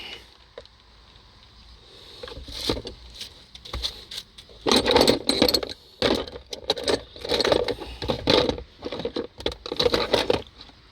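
Metal tools clatter and jangle as someone rummages through a toolbox for a 10mm socket during a Pontiac Torrent repair, bursts of rattling and clinking coming in irregular clusters, close and fairly loud.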